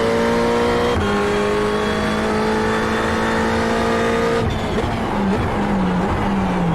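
A Ferrari 488 race car engine in iRacing at Spa-Francorchamps, a loud, sustained harmonic drone that holds steady through upshifts. Pitch drops sharply at each gear change, then falls further toward the end as the car slows.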